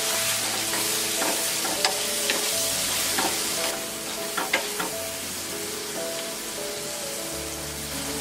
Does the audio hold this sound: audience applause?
no